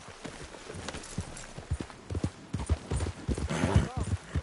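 In Red Dead Redemption 2, horse hooves clop in a quickening rhythm as the animal picks up pace, with voices talking over the hoofbeats.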